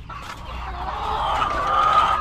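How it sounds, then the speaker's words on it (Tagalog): Laying hens in a Filipino backyard coop cluck continuously and fairly close, a busy overlapping chatter that swells slightly over two seconds, with no talk. "Lalo na yung itong mga malalaki nating manok na nangingitlog."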